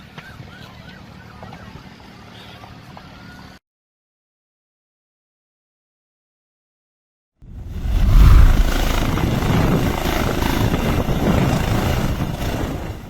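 An air ambulance helicopter crash at Muğla Training and Research Hospital in southwestern Turkey: faint outdoor ambience, a stretch of dead silence, then a sudden loud, dense low roar that holds steady to the end.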